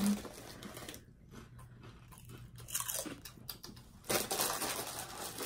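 King cheese and onion potato crisps crunch between the teeth in a few close, faint, crisp bites with soft chewing in between.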